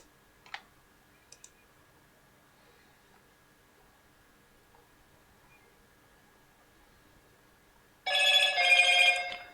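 A phone rings during a live photo-editing session, a short burst of bright electronic trilling at the very end that follows near-silence and a couple of faint mouse clicks.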